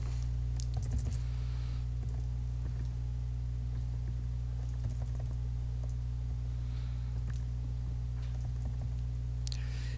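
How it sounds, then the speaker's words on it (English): Keystrokes on a computer keyboard as a web search is typed, a steady run of light clicks with a few louder bursts over a constant low electrical hum, with no talking. "let's type in proven reviews weight loss"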